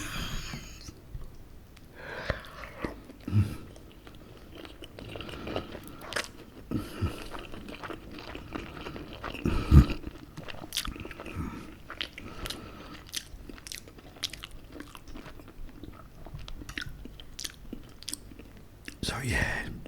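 A fried English breakfast is eaten close to the microphone, with soft biting, moist chewing and occasional crunches repeating at an irregular pace, quiet throughout.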